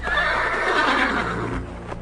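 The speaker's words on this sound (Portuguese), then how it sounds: "um cavalo preto." A black horse neighs in a long, loud whinny close by, tailing off near the end with faint background noise.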